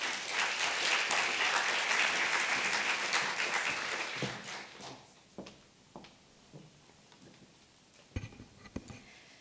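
Audience applause greets Dr. Victoria Herrmann as she takes the podium at a symposium on cultural communities, dense and steady clapping for about four seconds, then thinning into a few scattered claps and soft rustling.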